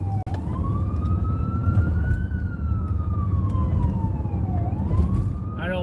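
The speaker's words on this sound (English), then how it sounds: "Way to make room for the ambulance." An ambulance siren wails through New York City traffic, its tone sweeping slowly up and down over a steady background of road noise, loud and continuous, with a brief sharper tone at the end.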